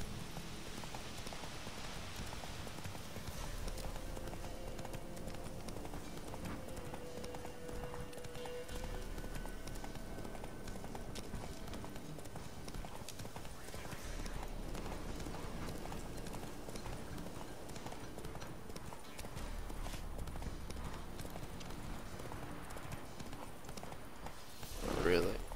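A horse gallops across open terrain in the video game The Witcher 3, its steady clip-clop hoofbeats continuing for the whole stretch over a dense bed of game ambience and music at an even, moderate loudness.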